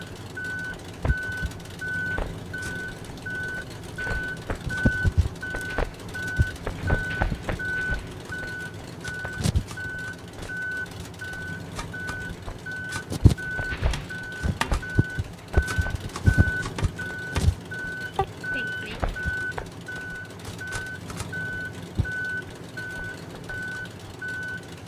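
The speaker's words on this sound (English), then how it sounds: "Yeah, but we need the truck." A truck in the Human: Fall Flat video game sounds reversing beeps, a steady, evenly spaced electronic tone repeating for about 25 seconds, moderately loud beneath scattered thumps and engine noise.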